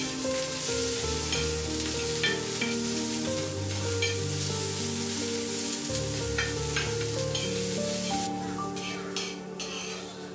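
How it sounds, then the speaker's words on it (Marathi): Onion roasting in a pan until brown, after coconut has been roasted, sizzles continuously with bursts of crackle as it is stirred, under steady tonal background music. "तर इथे खोबरं भाजून झाल्यानंतर मी आता छान कांदा पण तसाच भाजून घेते ब्राऊन कलर होईपर्यंत."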